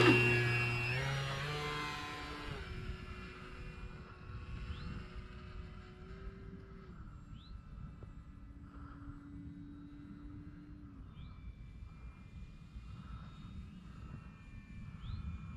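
An RC model Cessna 182 airplane takes off, its engine whining loud and close at first, then falling away to a thin, faint drone as it climbs off into the distance.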